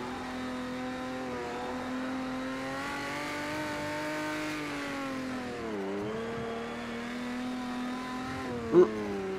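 A Porsche 917k race car from Project CARS 2 holds a steady, loud engine note for the whole stretch. It dips briefly in pitch as if lifting off, then climbs back, and a short sharp knock lands near the end.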